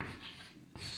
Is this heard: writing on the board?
yes